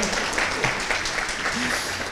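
An audience at a school panel event claps to welcome a panelist from PLC Melbourne, a steady roomful of applause with a brief voice underneath.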